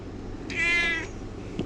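A pet cat meowing at a doorway threshold, one clear drawn-out meow at moderate loudness over a quiet indoor background, followed by a faint soft click.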